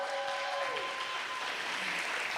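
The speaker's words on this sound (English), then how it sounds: "Are you all ready to cheer on some of our pitchers?" An audience at a business pitch competition in a hall claps steadily and densely throughout, with a brief whoop from one voice near the start.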